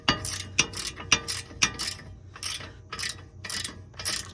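Hand ratchet tightening a fastener during an SN95 Ford Mustang brake rotor replacement: rhythmic clicking pawl strokes, about eight close, repeated pulls with brief pauses between them.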